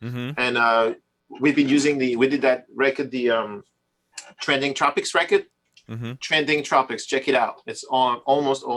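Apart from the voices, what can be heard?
No everyday noise stands out behind the speech.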